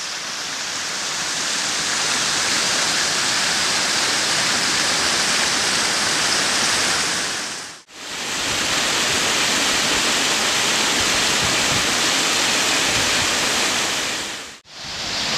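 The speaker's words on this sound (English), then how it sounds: "the area above the falls is filled with small cascades." Cascade Falls in Patapsco Valley State Park, Maryland: a waterfall pours in a loud, steady, broadband rush of water, continuous apart from two brief breaks.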